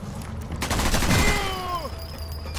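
Burst of gunfire from the video game Sniper Elite 4, a loud crack followed by a rolling, echoing tail that sweeps downward over about a second, with faint background game ambience.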